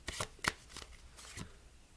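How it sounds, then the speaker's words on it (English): Playing cards in a deck riffled and squared during false shuffles for a beginner card trick, several quick crisp bursts close up, then quieter handling. "You do some false shuffles."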